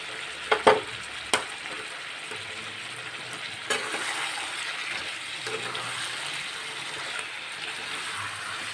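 Beaten yogurt goes into chopped mutton frying in oil, with a couple of sharp utensil clanks at first, then a steady hiss and crackle of sizzling while stirring continues.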